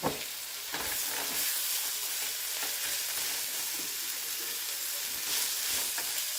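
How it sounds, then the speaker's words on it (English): Ground turkey, garlic and onions fry in a pan with a loud, steady sizzle and hiss, plus occasional stirring scrapes, close and continuous with no talk. "I'm going to go ahead and just add in our ground turkey."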